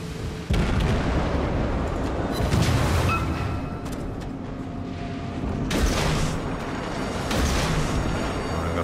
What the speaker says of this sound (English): there's all the other ships start firing at you as well